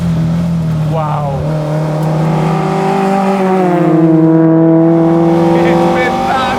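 An Alfa Romeo Giulia GTAm on a test track at Balocco screams up to about 7000 rpm, a loud, close engine rev with rising and holding pitch, then easing slightly, with a voice talking over it.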